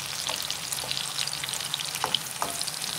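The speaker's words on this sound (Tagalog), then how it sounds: "Siyempre, kailangan natin siyang haluin. So, para hindi yung iba na lantok sa mantika." Sweet potato fries sizzle steadily in hot oil with a crackling hiss, while occasional scrapes and clicks of stirring come through close up; no voices.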